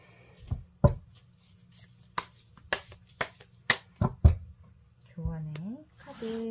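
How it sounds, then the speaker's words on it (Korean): Tarot cards are shuffled and snapped in a series of sharp, close papery slaps and flicks, with a brief voice at the end. "제가 조언의 카드를 한번 뽑아 볼게요"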